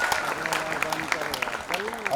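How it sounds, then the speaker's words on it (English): Audience applause claps steadily in the background while a voice talks over it, the clapping moderate and evenly spread. "Big round of applause, ladies and gentlemen"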